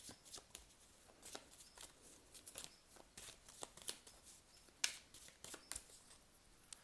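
Tarot cards being cut and shuffled during a reading, a quiet run of crisp riffling and flicking bursts, irregular and close, with no voices.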